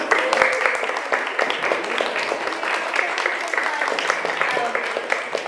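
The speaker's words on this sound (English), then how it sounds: "One more round of applause." An audience at a book event for authors Jazmina Barrera and Julián Delgado Lopera claps steadily for several seconds, a dense patter of many hands filling the room at a fairly loud, even level.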